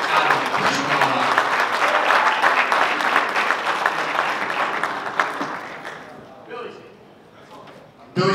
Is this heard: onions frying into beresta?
no